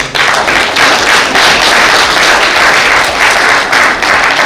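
Audience at a valedictory event for senior civil servants breaks into loud, sustained applause, dense clapping filling the room close to the microphone with no pauses.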